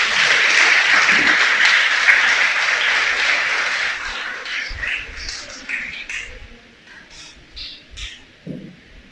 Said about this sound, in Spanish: vamos a darle un aplauso al Creador